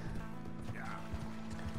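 Horses trotting with soft, repeated clip-clop hoof beats in the Red Dead Redemption II video game, moderately near, under a steady low game ambience, with a brief whinny-like tone partway through.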